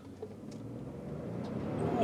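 A 2024 Ford F-150 STX pickup accelerates hard in sport mode on open road, heard from inside as a low engine drone that builds steadily louder over a couple of seconds.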